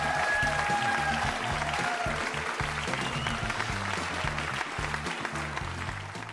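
An audience applauds for a distinguished folk artist at a Vietnamese music night, a dense, steady clapping that stays fairly even across the clip before tapering off slightly at the end.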